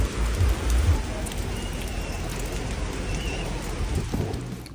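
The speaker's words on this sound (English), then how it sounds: "heavy rain swept over Black Rock City" Heavy rain pours over Black Rock City during Burning Man, a dense, continuous hiss with some low rumbling at the start and a voice speaking faintly in the background.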